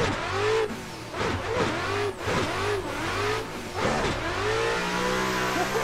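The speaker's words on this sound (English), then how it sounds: "Oh my god, all the clutch kicks behind you." Drift cars in tandem at Forest Park, with clutch kicks: engines rev and bounce up and down repeatedly, tires squealing, close and continuous with no voices.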